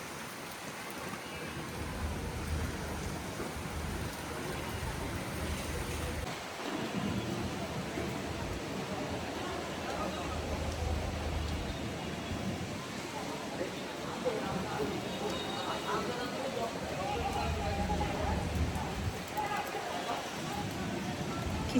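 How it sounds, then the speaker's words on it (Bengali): Heavy rain driven by strong gusting wind on a balcony during a storm, a dense steady roar that swells and dips throughout, with a brief lull early on. "ঝুম বৃষ্টি।"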